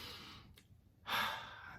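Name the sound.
deep breath in through the nose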